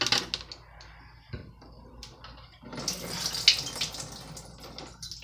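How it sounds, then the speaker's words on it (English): Water runs and splashes into cups, a steady trickle that grows louder and fuller after a brief pause partway through, close by with no talking. "Now it's time to pour the cups in with water."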